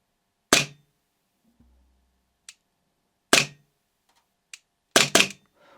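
An airsoft Umarex/VFC Walther PPK/S pistol fitted with a suppressor fires several sharp, close shots with short gaps between them, two following quickly at the end, along with faint mechanical clicks in the quiet pauses.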